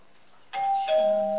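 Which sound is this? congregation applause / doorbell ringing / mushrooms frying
doorbell ringing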